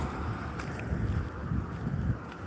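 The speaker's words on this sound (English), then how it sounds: "I don't know if that wind is picking up on you, but man, it's something." Wind buffeting a microphone outdoors on a walk, a continuous low rumbling roar with gusty swells and no talk.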